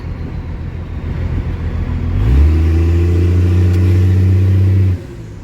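A worn Dodge pickup truck engine idles roughly, then revs up and holds a steady, loud drone close by for a few seconds before cutting back down.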